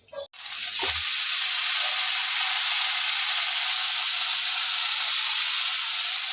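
Red amaranth greens frying with peanuts in a hot pan, a loud, dense, continuous sizzle that starts abruptly and holds steady throughout.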